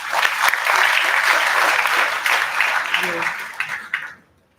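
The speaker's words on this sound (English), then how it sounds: "Let's give him a big round of applause." A large conference audience applauds loudly and steadily at a university event, the clapping dense and sustained before cutting off sharply near the end.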